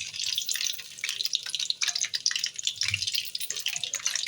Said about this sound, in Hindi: आराम से डालना है इसके अंदर। गरम तेल है, एहतियात करनी है।